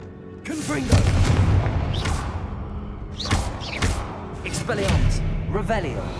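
Repeated Confringo spell explosions in Hogwarts Legacy, several heavy booms and thuds in quick succession with whooshing casts between them, over shouted voices.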